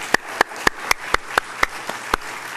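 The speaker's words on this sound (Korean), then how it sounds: "우리 살아계신 하나님께 다시 한번 큰 영광의 박수를 드리겠습니다." Slow, evenly spaced claps, about nine sharp hand claps over a few seconds, close and clear at a church worship service, with no voices over them.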